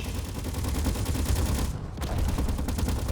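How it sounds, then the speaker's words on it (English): Sustained rapid gunfire in the video game Space Engineers: dense, loud, continuous bursts of shots that break off briefly near the middle before resuming, with no talking over it. "Let's ignore the fire, the gunfire."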